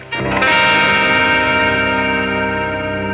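Clean tone from a Jackson electric guitar with active pickups and added compression, a single struck chord ringing out with rich, sustained harmonics and slow decay, with no talking.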